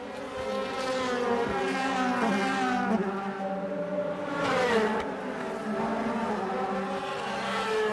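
DTM race car at the Norisring street circuit in 2014, heard onboard as a loud, close engine rising and falling in pitch through gear changes, with a sharp deceleration and rev drop midway under heavy braking.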